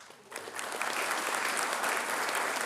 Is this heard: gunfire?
no